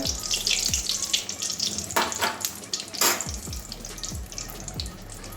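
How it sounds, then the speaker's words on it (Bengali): Malpua batter cakes made with palm fruit frying in hot oil, a continuous bubbling sizzle close by, with occasional scrapes and bumps of a utensil against the pan. "এভাবে সব মালপোয়াগুলো ভেজে নেব"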